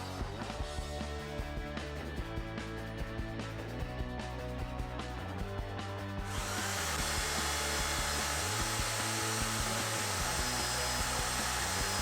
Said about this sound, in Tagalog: Electric drill lang yung pinaikot.